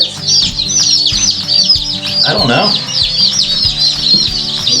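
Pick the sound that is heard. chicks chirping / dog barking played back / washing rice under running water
chicks chirping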